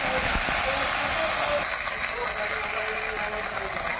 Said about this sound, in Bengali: হালকা করে ভেজে নিচ্ছি